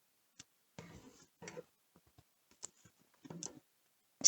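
Tarot cards being shuffled by hand at a reading table, a few short papery riffles and soft clicks with quiet gaps between them, close and fairly faint, with no talking.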